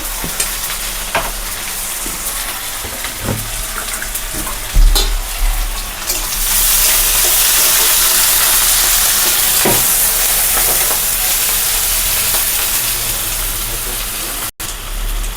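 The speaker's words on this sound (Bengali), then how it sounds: "তো বন্ধুরা পেঁয়াজটা ভালোভাবে ফ্রাই হয়ে গেছে" Onions fry in a pan with bay leaves, ginger and garlic for a mushroom dish, a few stirring taps giving way to a loud, continuous hissing sizzle.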